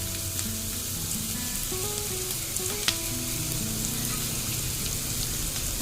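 Onions with a little salt sautéing in a pan for crab roast, a steady close sizzle and crackle with occasional stirring clinks, no voices.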